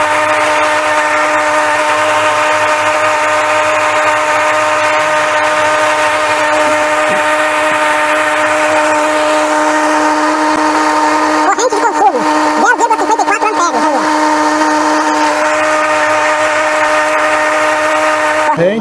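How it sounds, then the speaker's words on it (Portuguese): A blender's universal brush motor runs on 85 volts DC, giving a loud, steady whine with a constant pitch throughout; a few brief rattling bursts occur near the middle. "Lembrando que o liquidificador está ligado em 85 volts contínuo."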